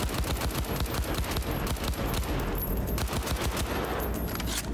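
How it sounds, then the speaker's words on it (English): Rapid automatic gunfire from Cyberpunk 2077, a dense, loud, continuous burst of shots that runs the full length with no voices over it. "This gun does some damage."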